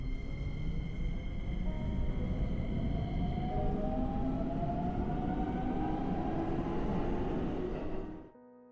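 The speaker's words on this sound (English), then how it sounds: "On a Saturday morning, Hana jumped on the bullet train" A Japanese bullet train runs steadily with a smooth, continuous roar and a rising whine, then the sound cuts off abruptly.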